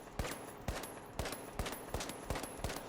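Gunfire from a weapon in The Finals video game: sharp single shots fired at an even, moderately quick rhythm, about eight cracks in under three seconds, with no voices.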